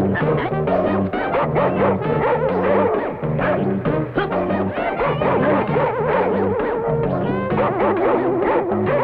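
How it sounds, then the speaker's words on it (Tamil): A big dog barks loudly and repeatedly in quick, rhythmic bursts, mixed with yips and whining, close by and continuous, with no talking. "ஏதோ பெரிய நாய் போல் இருக்கு."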